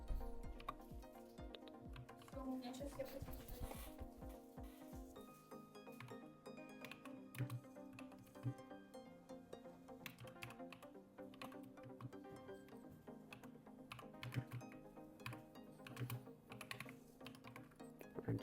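Computer keyboard typing, a steady close run of quick light key clicks with irregular rhythm continuing throughout, quiet and without voices.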